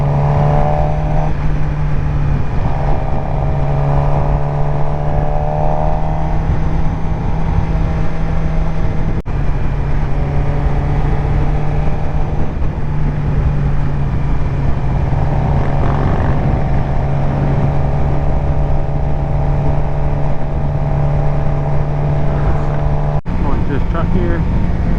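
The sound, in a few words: sport bike engine accelerating under throttle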